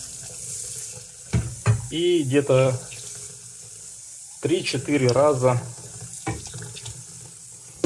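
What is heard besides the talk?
water filling pot to rinse buckwheat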